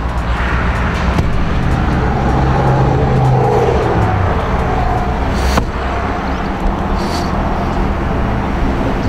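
A 2007 Cadillac Escalade SUV with a 400 hp V8 rumbles nearby, a deep steady engine drone that swells briefly as it revs, then settles back to a continuous low growl.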